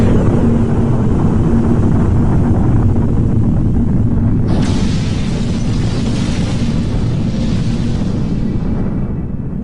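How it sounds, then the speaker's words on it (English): A hydrogen bomb explosion: a sustained, loud, rumbling roar with a deep low-end boom, and a sharp burst of broadband blast noise midway through that thunders on and slowly fades. "The splitting of deuterium was the basis for creation of the most destructive bomb, the hydrogen bomb."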